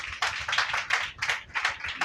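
Audience at a semi-Christmas church festival clapping in quick, even bursts that swell and fade every third of a second or so, fairly close and without any voices.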